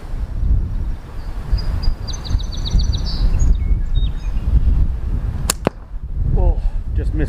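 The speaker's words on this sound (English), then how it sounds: "wind's really blowing today" Strong wind gusting outdoors, a steady broadband roar with buffeting on the microphone, close and loud throughout, with a few faint bird chirps and a sharp snap near the end.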